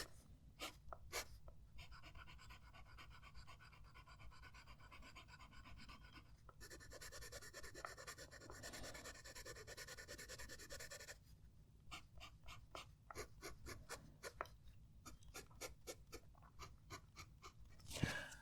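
Fountain pen nib scratching across paper in close, steady strokes with brief pauses between words and a louder tap near the end.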